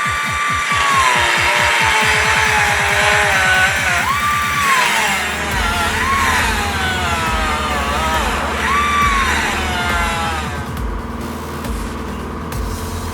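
A power tool cuts a square out of a metal base for a grinder stand, starting with a rapid chattering buzz and moving into a loud, steady whine with rising and falling squeals, close by and continuous.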